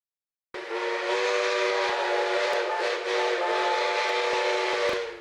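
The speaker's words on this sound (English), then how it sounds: "Locomotive 5917 is a rail veteran and last night was given the historic task of hauling what could be the last steam passenger service into Newcastle Station" A 1957 US-built steam locomotive, number 5917, sounds a long, loud, steady chime whistle with stacked harmonic tones while hauling a passenger service into Newcastle Station, holding for about five seconds.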